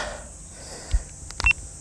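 Short electronic beeps sound during a bass-fishing outing: a brief cluster of thin, high tones rises above steady outdoor hiss, with a couple of low thumps nearby.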